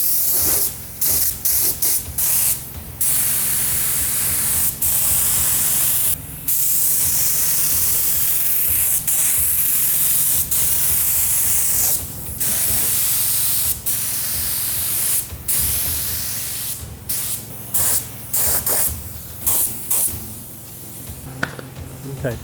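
Spray gun applying a cheap Raptor-style coating to a ute's panels, loud continuous hissing in repeated bursts with short pauses between passes, close by and dominant throughout.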